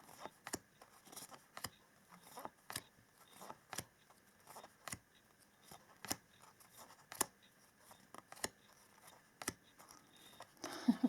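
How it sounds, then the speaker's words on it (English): Tarot and oracle cards flipped one by one, each giving a sharp, quiet snap at a steady, unhurried pace in a near-silent room. "I'll just flip through the cards."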